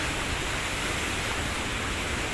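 Sea waves crash at a beach during high tide. A steady, even roar of surf fills the whole stretch, fairly loud and continuous, with no voices.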